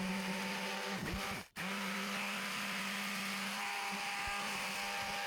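An electric sander whirs steadily with a gritty, buzzing drone as it sands a carbon fibre skin on a Ford Cortina part, briefly cutting out and restarting.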